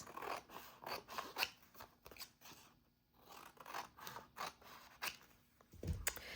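Scissors trimming around a paper piece for ephemera crafting, with a steady series of close snips and slides and a brief pause midway.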